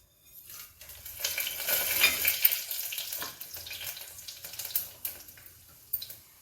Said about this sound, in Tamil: ரைஸ் தாளிக்கிறேன் எண்ணெய் காஞ்சிடுச்சு